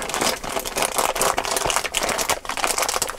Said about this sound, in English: Sorry for the plasticky noise.